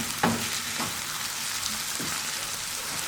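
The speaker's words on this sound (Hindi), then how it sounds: "अच्छे से मिक्स करेंगे और इन्हें भी 3 मिनट तक फ्राई कर लेंगे।" Potatoes fry for a Spanish omelette (tortilla de patata) in a pan, a steady close sizzle with a few light clicks of a spoon stirring early on, no voices.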